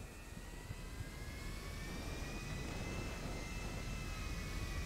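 An airplane engine in the video game GTA V on a FiveM server drones steadily with a rising whine, loud and continuous throughout, with no voices over it.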